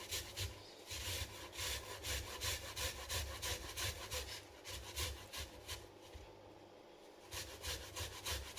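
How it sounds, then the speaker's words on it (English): About 25 grams of fresh ginger root is grated by hand in a home kitchen, giving a steady run of close, rhythmic rasping strokes that repeat quickly and evenly without any talk. "So I need to grate this ginger."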